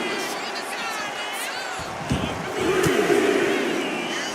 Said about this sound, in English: These fans are sending the decibel level off the scale.